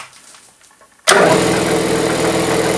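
A homemade air compressor built from a ZIL 130 truck compressor is switched on, cutting in abruptly after a second of quiet and then running loudly and steadily with a dense mechanical rumble and rapid pulsing.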